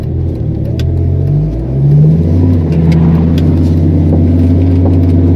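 A BMW M3 E46 fitted with a V10 engine revs hard on the autobahn, its loud, raw engine note climbing and holding a racy howl close up, with no talking over it.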